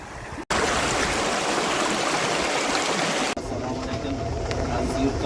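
A mountain stream rushes past a water mill at Oqtepasoy, a loud, continuous close wash of water that drops off sharply near the end to a softer, thinner flow.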